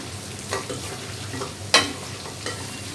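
Beef frying with ground black pepper, stirred with a spatula that gives a few sharp scrapes and taps over a steady low sizzle close by.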